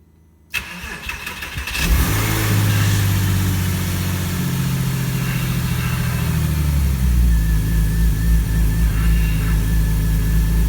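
A Porsche Boxster S with a freshly swapped M96 3.2 engine cranks and fires, then idles loudly and steadily with a low, throbbing note that deepens and swells toward the end, with no one talking.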